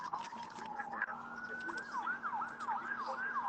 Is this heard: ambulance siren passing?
yes